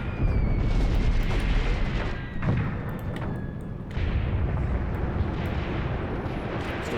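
Heavy artillery shells burst danger close on an Eastern Front battlefield in a war video game, a continuous rumbling barrage of loud booms with sharp impacts around two and four seconds, no talking.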